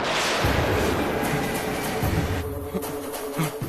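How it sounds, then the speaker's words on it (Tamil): A train draws near, its broad, steady rumble and rail noise filling the scene loudly and continuously, with a few low thuds along the way. "ஐயோ ட்ரெயின் ரொம்ப கிட்ட வந்துருச்சு."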